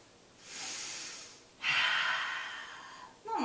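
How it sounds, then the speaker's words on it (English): Slow, audible breathing in and out during a yoga session: a soft inhale, then a longer, stronger exhale, and another breath starting, close and alone without talk. "Inhale, exhale. Inhale, exhale."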